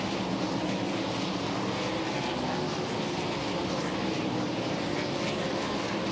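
World of Outlaws sprint cars race on the dirt track at Charlotte Motor Speedway, a dense, continuous roar of engines heard from a distance with no talk over it.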